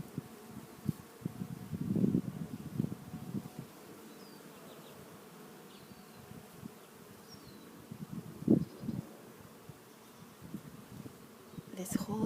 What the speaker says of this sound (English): This whole tree is so full of bees.